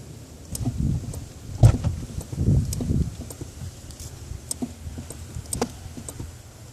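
Subaru WRX producing a clicking and popping noise, a few sharp isolated clicks and low thumps scattered over quiet rumbling and faint wind, close by.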